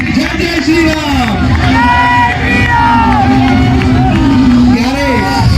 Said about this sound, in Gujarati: આપણે સૌ જાનૈયા અને માંડવિયા એના પર તાળીઓનો અભિષેક કરીએ